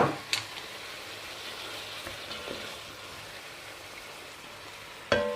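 Onions frying with chicken in a pot give a soft, steady sizzle with faint crackle, broken by a sharp clatter near the start and another near the end.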